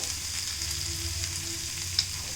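Fenugreek (methi) leaves fry steadily in a hot pan, a continuous close sizzle with soft crackles and one brief sharp pop near the end, no voices.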